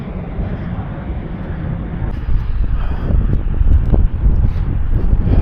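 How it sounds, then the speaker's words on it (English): Strong wind blows across a lake in Illinois, a steady loud roar buffeting the microphone and gusting harder toward the end, with no voices. "now I'm not getting any protection at all from that wind"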